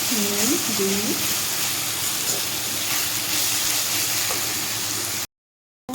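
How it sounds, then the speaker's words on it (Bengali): Potatoes fry in oil in a pan while a Bengali vegetarian pointed gourd dish is cooked, giving a continuous loud hiss and sizzle with a brief voice near the start, then cutting to silence near the end. "এইভাবে লাল করে আমি পুরোটা আলু ভেজে নেবো"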